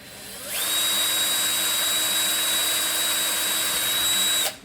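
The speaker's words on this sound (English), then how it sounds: "Drill my little pilot hole" A power drill whirs at a steady high pitch for about four seconds, drilling a pilot hole for a 2023 Toyota GR Corolla subwoofer install, starting and stopping abruptly, close and loud.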